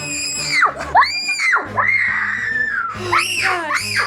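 A young child screams and cries in loud, wailing bursts that rise and fall, close by, with an adult's voice cutting in between the cries.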